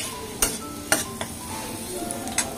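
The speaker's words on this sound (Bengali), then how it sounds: "কড়াইয়ে ঘি দিয়ে কাজু আর কিশমিশটা এই যে ভেজে নিচ্ছি" Cashews and raisins fry quietly in ghee in a kadai, with a soft, low sizzle broken by a few sharp clinks of a spoon or ladle against the metal pan.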